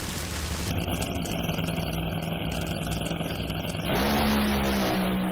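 NHRA drag racing cars launching off the starting line, a loud, steady engine roar that fills the scene and swells further near the end, heard alone without talk.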